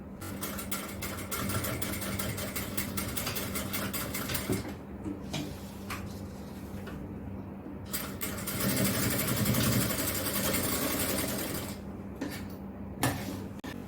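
A sewing machine stitching a seam on puff shorts, heard as a steady rapid mechanical whir with fast repeating ticks. It runs close and fairly continuous, pausing briefly a couple of times before picking up again.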